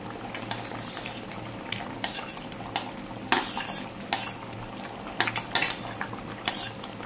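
Prawns stirred in a cooking pan with a metal utensil, scattered scraping and clinking strokes over a faint sizzle, close and moderately quiet, no talking.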